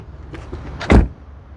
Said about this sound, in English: Let's listen to the sound of the closing door.